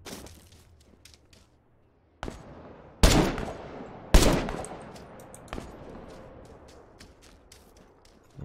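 Gunshots in the shooter game The Culling 2: a handful of sharp, loud cracks spaced irregularly a second or so apart, each trailing off quickly, with quiet stretches between.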